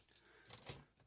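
Original keys jingle against an old Yale padlock, giving a short, faint metallic jangle of a few light clinks close by with no voices.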